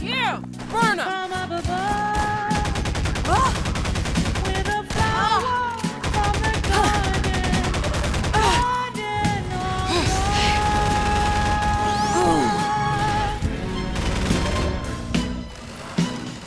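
Rapid gunfire and explosive bursts from a first-person shooter in the Half-Life series, loud and continuous, mixed with music and game sound effects across the whole stretch.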